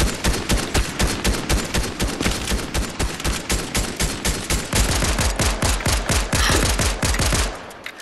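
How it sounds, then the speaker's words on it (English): Rapid automatic gunfire in a Fortnite game, a dense steady stream of loud, evenly spaced shots running for several seconds before trailing off. "Keep shooting!"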